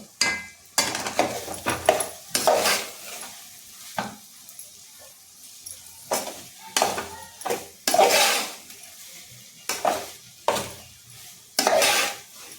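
Soaked, squeezed soybean chunks fry in oil in a pan, with repeated bursts of stirring and scraping against the pan over a soft, steady sizzle, close and fairly loud.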